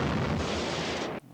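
Car explosion from the 1981 horror film Scanners: a loud, dense roaring blast sustained for about a second, then cut off abruptly into near silence.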